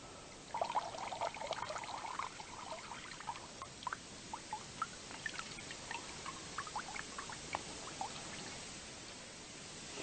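Pure water runs out of a freshly cut jungle vine in the Brazilian bush, a thin continuous trickle with small dribbling splashes and occasional drops, close and quiet against faint forest background.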